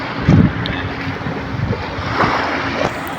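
Sea waves wash onto the calm beach at Laem Mae Phim in Klaeng, Rayong, a soft steady surf with wind buffeting the microphone and one louder swell early on, with no voices.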